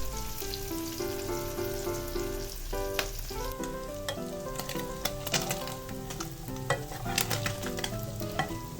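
Small chela fish fry in a wok over medium heat while something is stirred. A dense, steady crackle of spitting oil runs throughout, with frequent sharp pops and an ongoing tonal hum or music underneath, and no talk.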